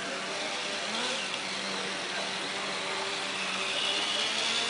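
A student-built racing car's engine revs steadily on a practice track at the IIT-B Full Throttle arena, a continuous loud mechanical drone with rising and falling pitch and no speech over it.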